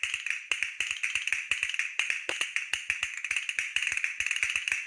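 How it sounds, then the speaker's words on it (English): Castanets clacking in rapid, crisp bursts of clicks, tightly rhythmic and close, continuing steadily throughout with no voices. "Castanets."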